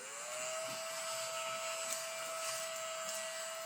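A small shop vacuum runs during detail work on an HO scale model railroad industry, giving a steady, faint, high-pitched whine that holds level throughout with no talking.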